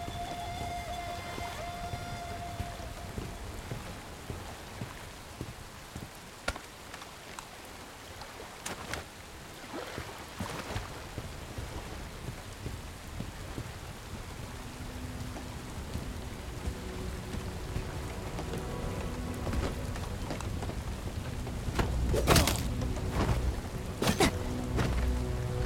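Heavy rain and wind sweep through a stormy scene in the video game Bright Memory Infinite, a steady dense downpour that swells louder toward the end, broken by a few sharp game effects.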